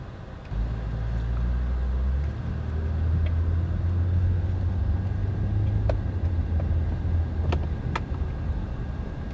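A car drives along an old, bumpy, uneven avenue in Fortaleza, Brazil, a steady low engine rumble and road roar heard from inside the vehicle, with occasional faint clicks and rattles over the rough surface.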